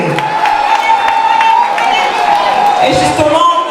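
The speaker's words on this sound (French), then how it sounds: "Applaudissez très fort" Loud crowd at a gala evening, cheering and clapping together with whoops and raised voices, continuous and close throughout.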